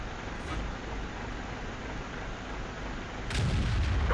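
In World of Tanks, an ISU-152 tank destroyer's big gun fires once near the end, a sudden heavy boom rising over a low, steady engine rumble and background hiss.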